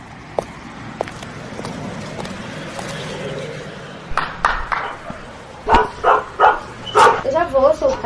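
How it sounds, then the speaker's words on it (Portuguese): Akira, a female dog, barks repeatedly and loudly in quick bursts, close by, growing more insistent toward the end, with a person talking in the background. "Essa, latindo sem parar, é a Akira, a cachorra da Vitória Fukushi"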